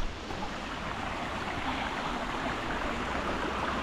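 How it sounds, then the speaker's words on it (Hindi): Small waterfall beside a trail near Bhootnath Temple in Rishikesh, a steady broad rushing hiss of falling water, even and continuous, with no voices over it. "यहीं से छोटा वाटरफॉल, आ जाओ।"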